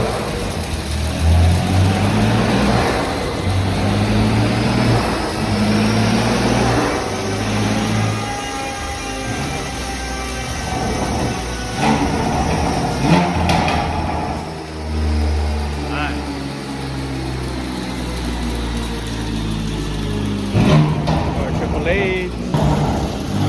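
A BMW M4 engine revs loudly and steadily nearby in a garage, rising and falling in pitch over a sustained drone, with people talking over it.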